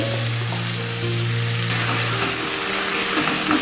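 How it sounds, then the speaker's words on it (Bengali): Fried fish pieces being stirred into a pan of cooked eggplant and vegetables in Bengali pui chyachra, with a steady close sizzle, low bubbling hum and soft scraping stirs near the end, no voices. "এভাবে নাড়াচাড়া করে মাখিয়ে নেব আমি"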